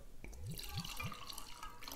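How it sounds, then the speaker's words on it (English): Angel's Envy bourbon glugging from the bottle into a glass, three quick rising gurgles near the start followed by a soft trickle, close and quiet. "Go ahead and pour."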